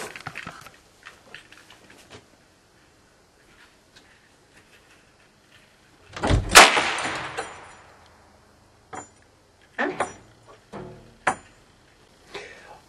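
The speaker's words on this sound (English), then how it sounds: "And then we open the door." A door is opened onto an airsoft grenade trip mine loaded with shells, setting off one sharp, loud burst with a decaying rush, then scattered clatters and knocks in an otherwise quiet room.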